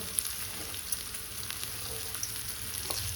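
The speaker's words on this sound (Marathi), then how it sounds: "मीठ घातल्यानंतर थोडंसं परतून घ्यायचं तो" Crushed green chilies and garlic cloves sautéing with a pinch of salt in a pan for buttermilk kadhi, giving a steady soft sizzle with faint scraping of stirring throughout.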